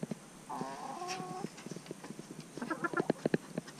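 A backyard hen clucks nearby, a short drawn-out call followed by a quick run of sharp, rhythmic clucks, fairly close and clear over a quiet background.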